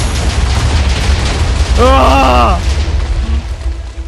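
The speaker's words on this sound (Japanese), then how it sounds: "TNT に火をつけてください。" Chain-reacting TNT explosions in Minecraft rumble as a dense, continuous low roar of overlapping blasts, with a person's startled exclamation rising briefly over the din.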